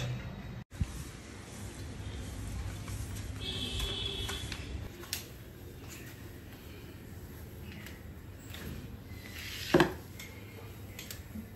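Pots, pans and dishes being scrubbed in a home kitchen, a soft steady scraping and rustling with scattered clinks and one sharper clatter of metal near the end, fairly quiet and close.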